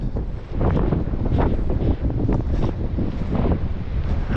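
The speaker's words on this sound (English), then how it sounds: "the wind along the coast remains ridiculously strong" Strong coastal wind on the Cornish coast near Tintagel and Boscastle roars steadily and loudly across a microphone, a continuous buffeting rumble with gusting surges and no voices.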